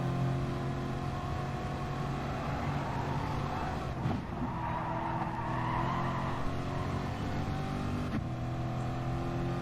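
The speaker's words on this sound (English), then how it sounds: "One thing about this Corvette is it's really easy to drive" A Corvette driven hard on a race track, its engine droning steadily and loudly throughout with shifting harmonic tones, brief dips near four and eight seconds, and faint tire noise mixed in.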